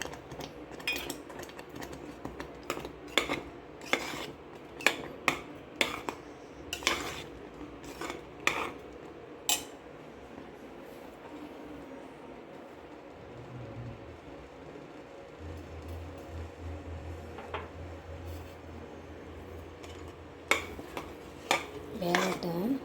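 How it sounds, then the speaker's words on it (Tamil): Semolina (rava) is stirred in a pan for a cardamom-flavoured sweet, with repeated close metallic clinks and scrapes of the spoon against the pan, irregular and bunched, over a faint background hum. "இந்த ரவையை போட்டு கிண்டியாச்சு. கட்டி விடாமல் கிண்டணும்."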